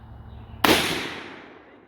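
A single big-bore revolver shot from a .460 or .500 Magnum, such as a Smith & Wesson X-frame, BFR or Raging Hunter, fired outdoors: one sharp, very loud blast followed by a long, fading echo.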